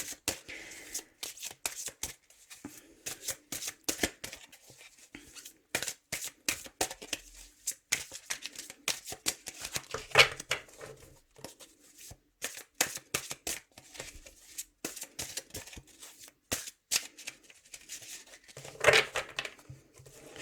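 Tarot cards being shuffled by hand, a long run of quick riffling flutters and soft slaps, close and fairly quiet, with a few spoken words in between.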